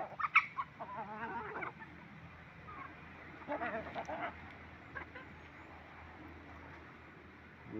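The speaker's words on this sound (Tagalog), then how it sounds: "Cute talaga yung ating mga manok." Backyard chickens, five hens fed cracked corn, clucking in short bursts close by over a steady low background hum, with quieter stretches between calls.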